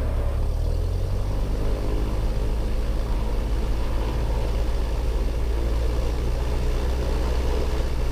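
A training aircraft's piston engine runs up to 1800 RPM, a loud, steady low-pitched drone with a rising, then constant, hum heard from inside the cockpit throughout, no voices.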